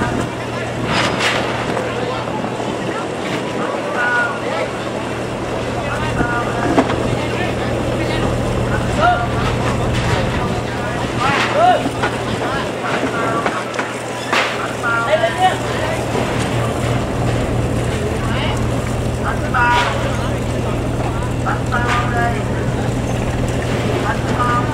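Motorboat engines drone steadily as boats pass on the water in Da Nang, with wind buffeting the microphone, while someone talks intermittently in Vietnamese over the hum.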